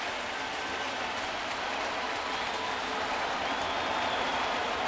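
A baseball crowd at Yankee Stadium in the bottom of the seventh applauds and roars in a steady, broad wash of clapping and cheering that builds slightly toward the end.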